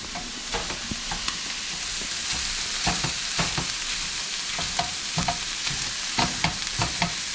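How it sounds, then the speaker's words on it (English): Sausage meat frying in a pan crackles and sizzles steadily while a utensil stirs and scrapes through it in repeated knocks and scuffs, close up, with no speech. "let me give the meat a quick stir"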